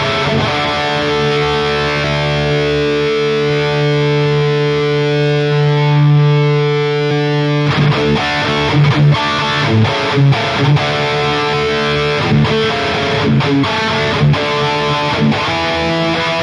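An electric guitar played through a Line 6 POD Go modelling an ENGL Fireball amp with delay gives thick, heavily distorted chords that ring out and then break into choppy riffing, with echo trailing each phrase.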